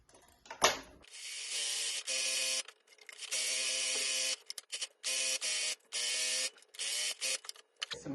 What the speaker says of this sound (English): So we're just going to sew 1/4 inch all the way around, touching the front and back.